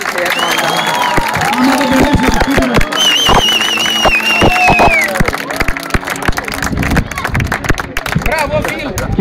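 Applause and crowd noise at a 2011 Thassos road race awards ceremony, a steady patter of clapping with scattered whistles and cheers, people chattering throughout and some engine noise underneath.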